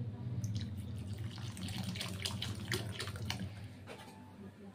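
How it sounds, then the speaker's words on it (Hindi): Water is poured into fish curry masala in a pan, a soft continuous splashing trickle close by, fairly quiet and without talk. "अब इसमें हम थोड़ा पानी और डालेंगे"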